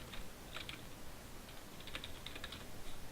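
Keys clack on a computer keyboard as a layer name is typed in Photoshop, producing quiet clusters of light taps in short irregular bursts over a soft background hiss.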